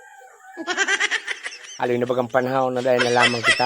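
Chickens cluck in a quick run of short calls, then a rooster crows loud and close over them, with people talking at the same time.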